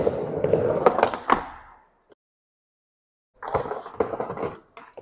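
Skateboard on a spine ramp with metal coping: rolling wheels and gritty grinding scrapes with sharp clacks, a pause of near silence, then another rolling, scraping pass with knocks.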